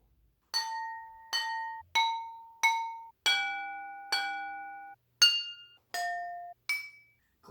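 Glass and ceramic bowls from a kitchen cupboard struck one at a time, nine clear ringing pitched tones in a steady sequence, each note ringing and decaying before the next, close and fairly quiet with no talk.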